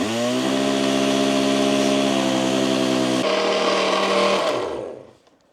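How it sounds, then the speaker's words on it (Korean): An electric kitchen blender, a weak one, grinds granulated sugar into a fine powder, droning loudly and steadily with a strained whine before spinning down and stopping near the end. "제가 가지고 있는 이 믹서기의 성능이 안 좋아서 조금씩 나눠서 넣어야 될 것 같네요"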